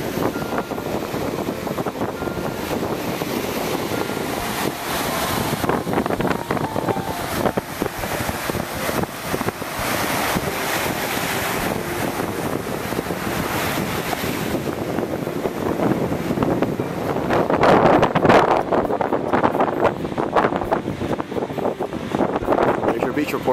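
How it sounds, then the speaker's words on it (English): Strong wind at Blue Mountain Beach, Florida, buffeting the microphone in a constant loud roar with surf beneath, gusting harder near the end. "Lots and lots and lots of wind."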